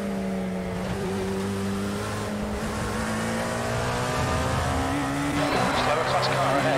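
Dallara P217 prototype race car engine in iRacing sim at Road Atlanta, a steady loud drone with shifting harmonics as the car runs, rising slightly near the end, with a voice speaking over it.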